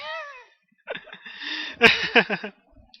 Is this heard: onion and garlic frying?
no